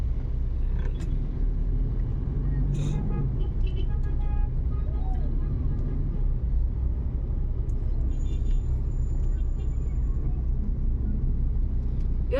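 Road traffic in Dagupan City, Pangasinan, Philippines, a steady low rumble of passing cars and buses with a brief air-brake hiss, a horn-like tone and scattered knocks, continuous and moderately loud.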